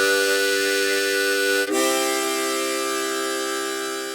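Harmonica playing a blow, draw, blow pattern on holes 1, 2 and 3, sounding as a loud sustained reedy chord that shifts pitch once partway through and then holds steadily to the end, with no voices.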